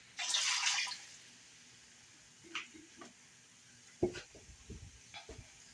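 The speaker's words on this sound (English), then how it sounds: "Let me drain the water." Water drained from a jar of sliced pickles trickles and splashes briefly, a short pour followed by scattered drips and light clinks, close and fairly quiet.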